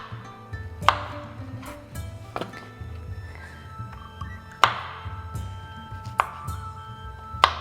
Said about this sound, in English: you're gonna go ahead with your mushrooms